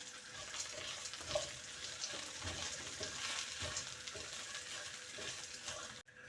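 Dried shrimp fries in a pan with ginger and curry leaves, a steady crackling sizzle running throughout with light stirring scrapes, close and fairly even in loudness.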